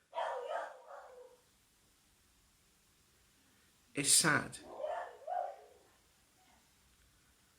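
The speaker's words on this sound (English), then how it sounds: "Excuse my dog in the background, that's our bagel," A dog named Bagel gives a few short barks in the background, sharp and fairly loud in one burst, with a person talking faintly before and after.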